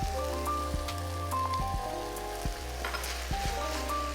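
Yellow pepper sizzles in a pan of goulash, a continuous close hiss and crackle of frying with a faint low hum underneath and occasional light stirring taps.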